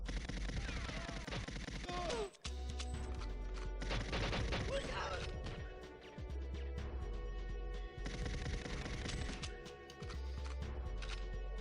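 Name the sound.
gunfire from a weak gun in GoldenEye video game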